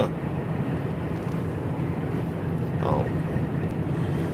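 Steady rushing wind buffets the microphone through a partly open car window, a constant low roar with no clear talk.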